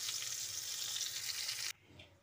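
Pointed gourd (potol) frying in hot oil, a steady bright sizzle that holds evenly for nearly two seconds before cutting off abruptly to faint residual crackle.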